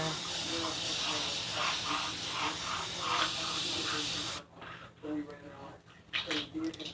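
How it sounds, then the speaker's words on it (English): A steady hiss of Pam cooking spray onto a pancake pan close by for several seconds, followed by quieter kitchen sounds and brief sizzling. "Spray the pan a little bit more."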